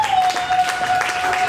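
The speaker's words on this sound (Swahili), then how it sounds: "Naomba tumpigie tena makofi yenye utukufu." Congregation clapping during a Swahili church service, a short burst of steady applause with a thin sustained tone running underneath and some voices mixed in.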